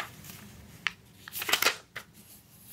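A sheet of A4 paper is folded in half for a craft, with a few crisp crinkles and one short sharp crease, close up and quiet.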